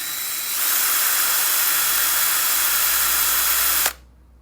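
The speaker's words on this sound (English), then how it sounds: "take the cable off, put a drill on it, and your speedometer moves" A power drill spins the speedometer cable of a Honda CT70, giving a close, high, steady whirring hiss that starts, holds for a few seconds, then cuts off sharply.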